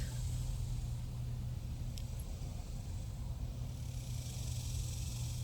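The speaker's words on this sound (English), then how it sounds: "cars in the distance on the freeway" Distant freeway traffic forms a steady low rumble and hiss that continues evenly throughout, faint and far off, with no talking.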